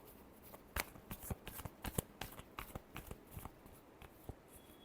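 Tarot cards being shuffled by hand, giving a quick series of soft riffling snaps and flicks, close and quiet, with no talking.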